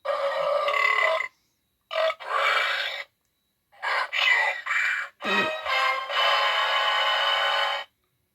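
A toy burp zombie gives off loud electronic burping sounds in several bursts with short silent gaps between them, close up, a long drawn-out belch at the end, and no talk.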